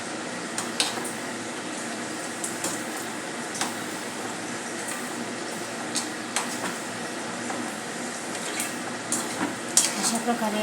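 A snack fries in oil in a pan, giving a steady close sizzle with occasional light clicks of a utensil against the pan.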